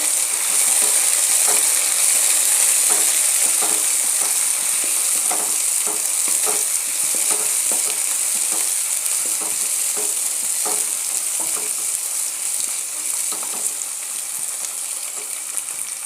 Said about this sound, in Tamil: வெங்காயம் வதங்கிருச்சு அடுத்து தக்காளி சேர்த்துக்கலாம்